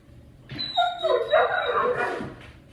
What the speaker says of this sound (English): Apparently the neighbor dog is outside and Gunther wants out.